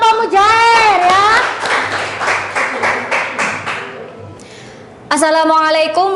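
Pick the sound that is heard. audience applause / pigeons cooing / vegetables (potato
audience applause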